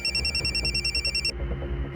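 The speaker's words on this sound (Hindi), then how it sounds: "उसी नंबर से फ़ोन आया" A telephone rings with an incoming call, a steady electronic warbling ringtone that is loud and close, then cuts off midway as a low background hum and faint rhythmic noise carry on.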